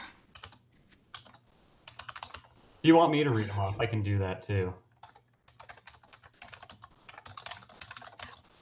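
Computer keyboard typing at a subcommittee meeting, quick irregular clicks running through most of the stretch, close and fairly soft, with a voice speaking briefly in the middle.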